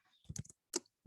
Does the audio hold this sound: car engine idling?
no